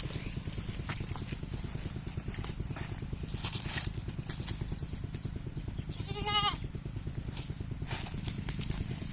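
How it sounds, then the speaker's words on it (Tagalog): Goats on a farm field, one giving a short wavering bleat midway through, heard over a steady rhythmic rumble and scattered background noise. "Ayan, kumakain na si itim kambing."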